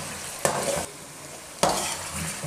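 Ginger and garlic, about a spoonful each, hitting oil in a pan while cooking kachnar gosht, with two sharp sizzling bursts from stirring over a steady frying hiss, close by and with no talk.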